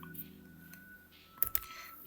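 A few quick computer keyboard keystrokes clicking nearby during 3D modelling work in 3ds Max, a short burst of taps over quiet room tone.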